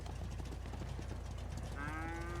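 A cow lets out a single drawn-out moo near the end, low and fairly close, over a steady low background hum with no talking.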